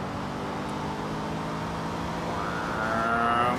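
Car engine in a Forza Horizon 2 video game drag race, a steady loud drone that climbs in pitch near the end as the car pulls hard, with no talk over it.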